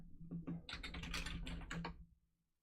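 Rapid clicking and tapping on a computer keyboard or mouse indoors, a quick close burst of a dozen or so light clicks lasting about two seconds, then quiet.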